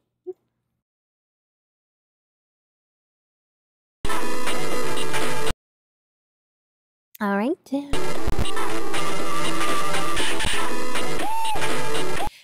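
Harsh, glitchy electronic audio from a WonderSwan game plays in bursts, a short blast, a pause with a warbling sweep, then a long cluttered stretch, with a brief spoken remark.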